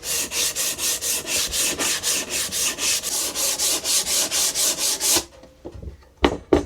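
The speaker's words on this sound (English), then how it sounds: "Now, I'm just going to give it a light sand down." An old shellac-finished wooden piece is lightly hand-sanded in quick, even back-and-forth strokes, about a dozen close rasping passes, then the sanding stops and a few soft knocks follow.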